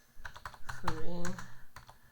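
Quick clicks of keys on a computer keyboard as a short word is typed, a brief burst of close tapping with a voice murmuring briefly in the middle.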